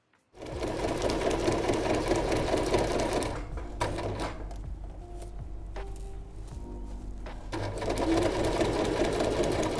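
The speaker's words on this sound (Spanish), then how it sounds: "Y cosemos, nos ayudamos con alfileres si es necesario, y cosemos las 3 cosas juntas." A sewing machine stitches the lining, zipper and exterior of a bag together with a loud rapid hum that dips into slower, intermittent stitching midway before speeding up again.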